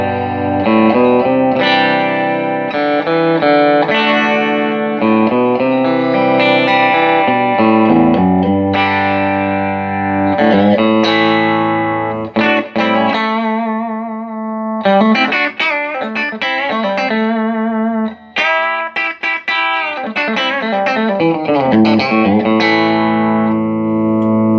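A clean electric guitar played through a Hughes and Kettner 12-inch cab with a WGS Black Hawk 30-watt speaker, ringing chords and melodic lines played continuously with a touch of shimmer.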